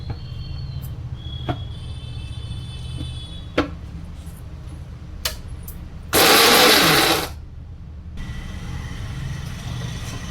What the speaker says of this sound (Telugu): మిక్సీ వేసుకుందాం